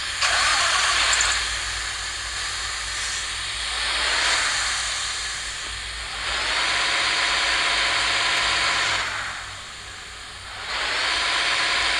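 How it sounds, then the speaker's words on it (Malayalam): A game-simulated Ashok Leyland BS6 diesel bus engine cranks and starts, then settles into a loud, steady idle with hissing air bursts that rise and fall several times across the stretch, with no talking. "ഏതായാലും നമ്മുടെ BS6 ലൈലൻഡിന് ഒരു പ്രത്യേക സൗണ്ടുണ്ട്"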